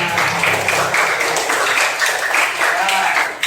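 A classroom of students claps for a classmate named Dimas during a math lesson. The short burst of applause runs under a teacher's voice that talks over it.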